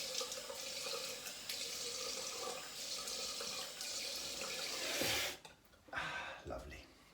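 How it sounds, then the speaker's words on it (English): Tap water runs steadily into a sink for a cold rinse after a razor shave, a broad continuous splashing hiss that cuts off near the end, followed by a few brief splashes. "now I'm going cold water rinse."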